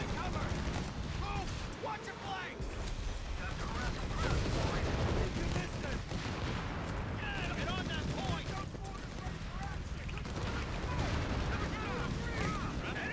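Artillery and gunfire in Company of Heroes 3 on the 4v4 Monte Cavo map: dense, continuous barrages of booms and crackling shots, loud throughout, with a voice talking over the battle.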